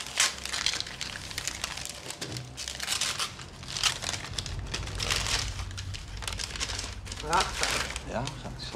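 Gift wrapping paper is torn open and crumpled during a family dinner, with repeated close crinkling and rustling bursts across several seconds while people chat over it.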